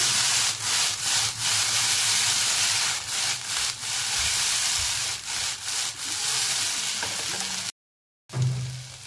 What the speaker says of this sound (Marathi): तर असं थोडी भेंडी परत हलवून घ्यायची।